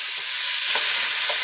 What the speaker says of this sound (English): in with your onions. And stir that in, keep it moving.